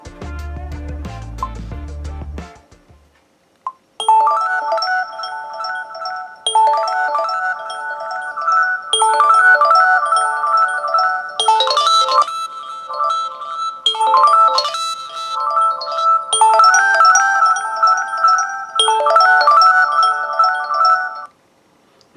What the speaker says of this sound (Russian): максимальный уровень звука и рингтончик